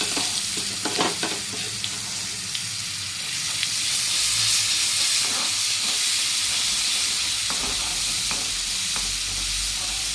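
A spice paste of mustard seeds, cumin, coriander-cumin powder, chutney, turmeric and salt fries in a pan, giving a steady, close sizzle and hiss with occasional crackles and stirring scrapes throughout.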